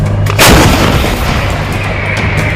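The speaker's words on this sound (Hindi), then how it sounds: "सेना ने इतनी भारी तादाद में गोले दागे" An artillery shell is fired by the Israeli army with a loud, close boom, followed by a long rumbling roll of noise that persists for the rest of the moment, with no voices.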